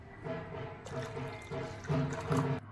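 Water poured into a pot of Maharashtrian tamarind-jaggery dal (chinch-gul varan), a quiet, close trickle and splash coming in a few short bursts with brief gaps.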